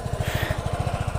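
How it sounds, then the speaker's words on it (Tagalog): A Kymco Dollar 150 scooter's exhaust putters close by in a fast, even pulse, a small single-cylinder engine idling steadily on its own without talk. "Tapos yung tunog ng tambutso niya"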